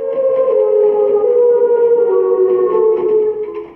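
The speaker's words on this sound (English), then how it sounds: "A warning siren rips through the small town." A loud, steady warning siren wails with a sustained tone that dips slightly, sounding alone before trailing off at the end.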